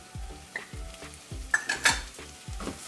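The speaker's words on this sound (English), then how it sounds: "We're gonna saute it for a few more minutes until the raw garlic smell goes away." Garlic and ginger paste sautéing with dry spices in a pan, a steady sizzle broken up by a spoon stirring and scraping against the pan in repeated strokes, close and moderately loud, with no talking.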